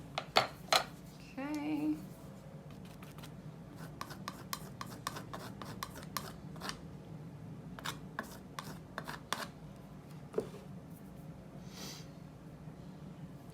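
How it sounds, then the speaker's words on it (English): Paint is scraped off a canvas in a series of short, faint scratching and tapping strokes, close by and intermittent, with a brief spoken word near the start. "Scrape some of this excess off, no big deal."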